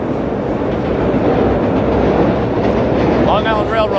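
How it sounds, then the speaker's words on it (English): A Long Island Rail Road train rumbles past on a misty, rainy morning near the Williamsburg Bridge in New York, a steady, loud roar of wheels on track throughout, with a faint squeal toward the end. "Long Island Railroad coming along over there."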